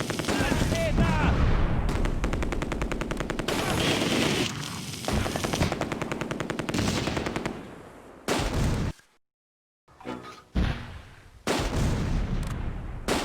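Intense battlefield gunfire in the WWII strategy game Close Combat as a mortar team comes under attack: sustained machine-gun rattle and rifle shots with booming impacts, a short silence, then renewed bursts.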